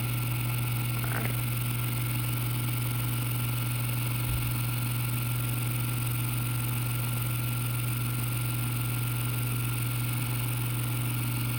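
A small electric motor on a 1/32 scale slot car tire truing machine runs at a constant speed, giving an unbroken, even hum with a strong steady whine and no talking.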